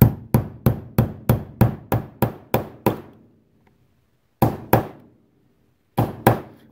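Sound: hammer driving pin through Taurus 85 revolver frame

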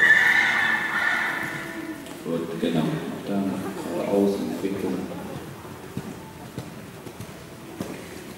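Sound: horse galloping

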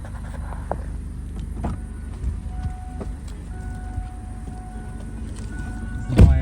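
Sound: Kia Cerato car driving

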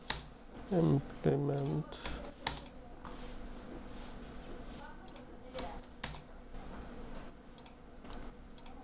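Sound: typing on a computer keyboard in Android Studio

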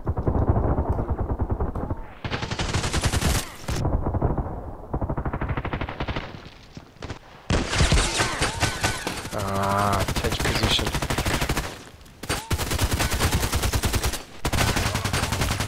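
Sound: gunshots in Contract Wars video game

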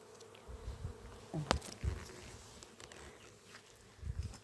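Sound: honey bees buzzing in flight

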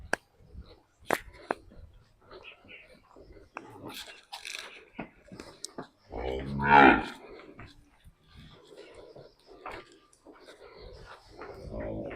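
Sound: cattle mooing (heifers)

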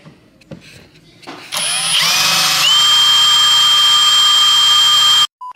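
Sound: power drill drilling hole in countertop

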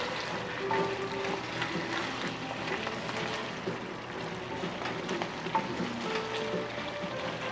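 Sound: onions and beef flank sizzling in a pan

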